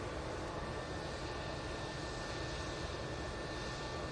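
Airliner jet engines at Manchester Airport before takeoff, a steady, even roar with a faint high whine, continuous and unbroken at moderate distance, with no talking over it.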